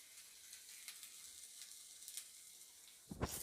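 Ginger and asafoetida sizzle gently in hot oil, in the seasoning for curd semiya. The frying crackle is faint and steady with small pops, followed by a louder clatter at the end, and no one speaks.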